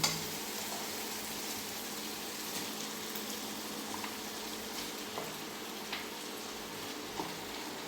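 Chicken meat goes into a pan of fried spice paste, and a steady close sizzle and crackle of frying runs throughout with small scattered pops. No one speaks.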